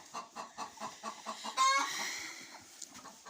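Hens cluck in a quick, regular series of short calls, then one lets out a louder drawn-out squawk before the calls trail off, fairly close in a quiet yard without talk.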